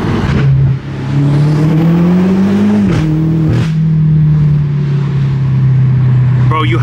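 BMW M8 Competition engine droning loud and close from the passenger seat, the pitch rising and settling as it revs, with someone talking over it.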